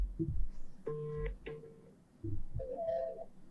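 Short electronic ringing tones of a phone call to Nigeria sound twice, a steady beeping pattern like a line ringing, with some low background noise between.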